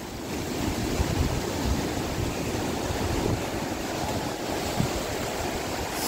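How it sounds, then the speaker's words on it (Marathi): Ocean waves surge and crash continuously on Harnai beach, a dense, steady roar of surf with wind buffeting the microphone and no voices. "कशा उडता बघा लाटा."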